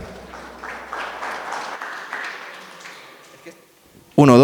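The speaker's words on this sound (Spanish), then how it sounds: "Denle un fuerte aplauso a toda la producción," Clapping for a production team at a church or stage event; the applause builds and then tapers off, and a voice cuts in loudly at the very end.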